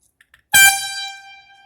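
A couple of faint clicks, then one sudden, piercing blast from an AirZound bicycle air horn, rated about 115 decibels, very loud and close, tapering off over a second.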